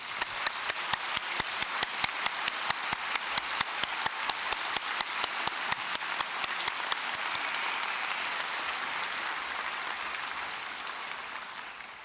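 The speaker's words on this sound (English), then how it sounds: "I think they deserve a big round of applause." Graduation ceremony audience claps for new graduates in a large hall, sharp individual claps opening into a broad sustained round that fades slightly toward the end.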